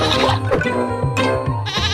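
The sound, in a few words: goat bleating in the Meena video game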